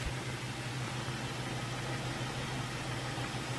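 A car engine idles in a workshop during a diagnosis of engine noise, heard as a faint, steady low hum and drone, with no voices.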